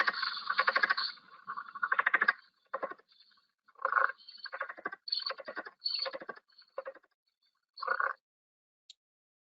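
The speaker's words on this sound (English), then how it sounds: "It's my favorite frog sound. It's the leopard frog." Leopard frog calling up close: a run of rough, pulsing, snore-like rattles in uneven bursts, some long and some clipped, with short gaps between them and one faint click at the end; no voices.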